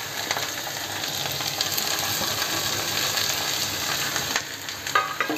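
Onions, chillies and garlic sauté in hot oil, giving a steady, close sizzle and crackle with occasional stirring scrapes, heard alone without talk.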